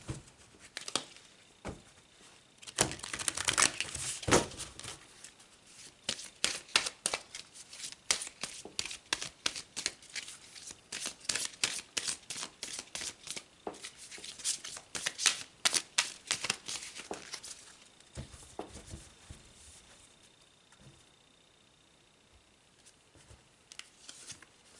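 Tarot cards are shuffled by hand in quick riffling bursts, with soft papery flutters and snaps coming in repeated runs and short pauses between them.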